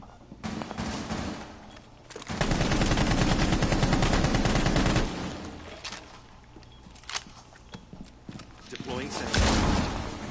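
Sustained rapid gunfire from a first-person shooter video game, with a loud dense burst of automatic shots in the middle and scattered shots around it, over game noise and people talking.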